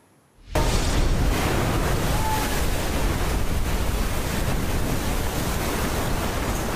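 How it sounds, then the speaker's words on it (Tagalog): Strong waves during Super Typhoon Uwan: a steady, dense roar of surf and wind kicks in abruptly after a brief silence and stays loud and unbroken to the end. "winasiwas ng malalakas na alon ang ilang daan sa kasagsagan ng pananalasa ng Super Typhoon Uwan"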